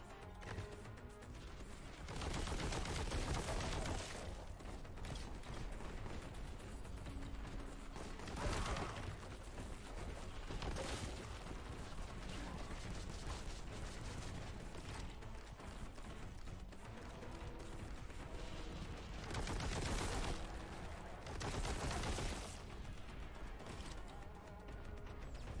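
Heavy gunfire and explosive impacts in the retro shooter Warhammer 40,000: Boltgun, loud and continuous, with dense bursts and louder crashing blasts recurring every few seconds and no talking.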